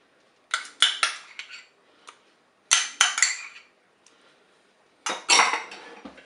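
Ham strips and crème fraîche are stirred in the metal bowl of a Cookeo cooker, with three bursts of quick clinking, scraping spoon strokes against the pot separated by short silences, close by.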